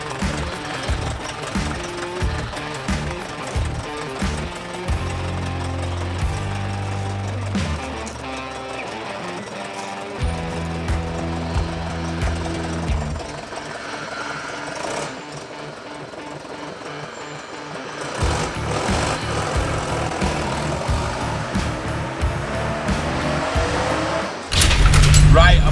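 Ford Transit recovery truck engine while driving, a continuous droning rumble that rises and falls with gear changes, ending in a louder burst.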